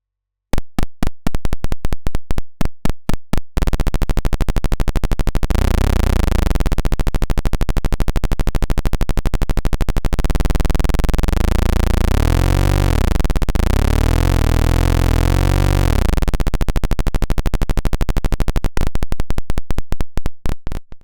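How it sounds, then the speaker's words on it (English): A simulated one-cylinder engine from a homemade engine simulator: slow, separate firing pulses build into a continuous buzzing drone whose pitch sweeps up and down with revs, then break back into spaced pulses as it winds down. "this one-cylinder engine might not sound as exciting as the reference audio I've been basing it off"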